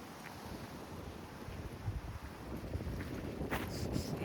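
Wind gusts across an open cemetery in Walsall, buffeting the microphone with a low, rumbling roar that swells and builds louder toward the end, with a few faint higher whistles.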